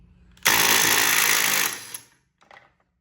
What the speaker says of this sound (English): we're gonna see if this little impact driver can bust this nut off of here for the steering wheel